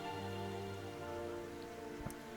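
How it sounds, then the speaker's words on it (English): Acid rain falling in the Terraria Calamity mod, a steady hiss of rain hitting surfaces alongside sustained low game tones, with one brief sharper tick near the end and no voices. "we did get notice that acid rain had started again over here naturally."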